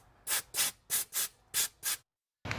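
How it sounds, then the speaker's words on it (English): Compressed air from a hose blasting leftover coolant out of a 2002-2006 Cadillac Escalade engine during intake manifold gasket work, six short sharp bursts in quick succession, then a pause and the start of another. "I'm just gonna get an air hose and blow out all the coolant and stuff"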